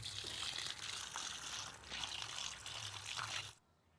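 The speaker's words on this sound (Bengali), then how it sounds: "মাংসটাকে এবারে ধুয়ে নেব" Water runs and splashes steadily as raw mutton is washed in a kitchen, a close, continuous trickle for a few seconds before stopping.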